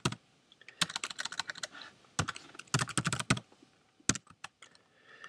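Someone types a command on a computer keyboard, with quick clusters of crisp key clicks separated by short pauses, close and clear, and no talking.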